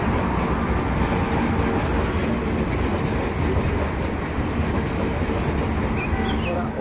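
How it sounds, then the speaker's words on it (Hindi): A train passing on a railway track below a hilltop near North Guwahati, a loud continuous rumble with rhythmic clatter of wagons rolling by, steady throughout. "और ये देखो ट्रेन जा रही है यहाँ से"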